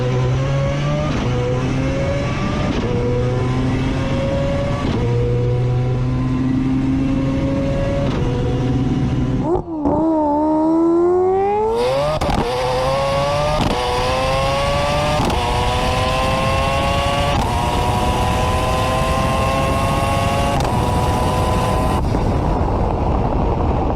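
A turbocharged four-rotor engine in a Mazda RX-7 revs hard and loud throughout, with rising, sustained pulls and a brief drop in pitch around a gear change before climbing again, close to the car with no talk.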